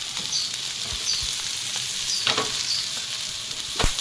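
Spices frying with cashew and tomato paste in a pan, a close, steady sizzle with a few sharp scrapes and knocks of a stirring spoon, no talk.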